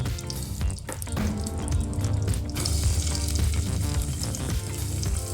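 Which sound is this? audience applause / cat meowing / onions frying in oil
onions frying in oil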